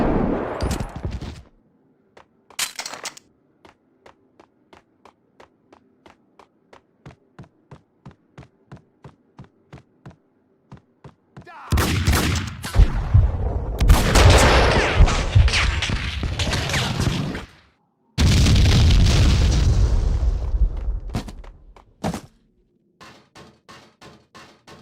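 Max Payne 2: The Fall of Max Payne on PC: a steady run of quick, fairly faint shots, then loud, dense bursts of gunfire and explosions crowding together before trailing off into scattered reports.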